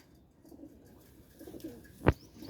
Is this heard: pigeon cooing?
yes